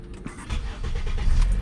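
A Honda or Acura car engine starting outdoors, a low rumbling turnover that builds and settles into a steady running note over under two seconds.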